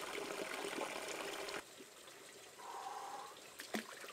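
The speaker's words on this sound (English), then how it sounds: "Nearby, a spring flows with icy, clear water, offering a refreshing drink or even a chance to bathe in a small pool" Icy, clear spring water flows steadily in a quiet, secluded spot in the forests of western Ukraine, a soft continuous trickle and wash, fairly faint, with a brief louder splash near the end.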